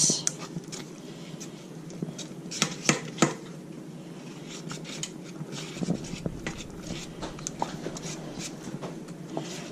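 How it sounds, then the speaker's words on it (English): A spoon scrapes and taps around a pot of melting cheese in a dish headed for the oven, soft repeated stirring clicks and squishes over quiet room tone, with a voice briefly heard. "And then we're just going to mix this all up until all that cheese in here is melted"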